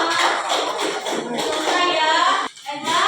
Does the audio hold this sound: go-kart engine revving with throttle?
no